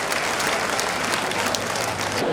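Audience applause for a poet at a Hindi comedy poetry show, a dense, steady wash of many hands clapping throughout, loud and continuous with no voices standing out.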